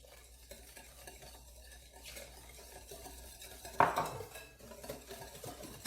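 Milk is stirred into a sugar-and-egg apple cake batter in a bowl, making quiet scraping and wet swishing with occasional utensil taps and one louder clatter midway.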